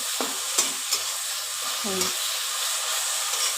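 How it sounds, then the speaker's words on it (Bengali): Spice paste for boal fish curry stir-fried over the gas flame, a soft, steady sizzle with several light scraping stirs and knocks of the spoon against the pan. "এই যে ভালো করে একটুখানি কষিয়ে নিই"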